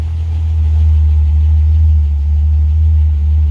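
A car engine idling after an oil cooler install, a loud, steady low rumble close by, even and unbroken throughout with no voices.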